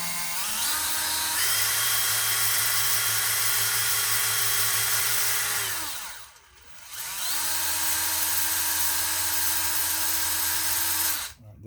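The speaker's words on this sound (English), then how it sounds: "I'm just going to power this thing wide open and go to sanding on it." A small power tool runs at full speed sanding a plastic part of a 1/25-scale 1969 Shelby Mustang GT500 model kit, a loud steady whine in two long bursts with a brief pause between them.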